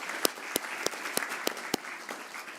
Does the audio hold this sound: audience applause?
yes